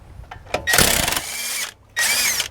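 An impact tool or drill spins off the 18 mm caliper bracket bolts on a 2014–2018 Chevy Silverado, two close whirring bursts with a short pause between them, no talking.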